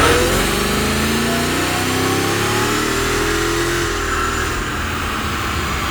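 Mercedes E55 AMG wagon engine revving loudly and steadily close by, tuned to about 450 horsepower and cutting out early in the rev range, with the pitch climbing and then holding.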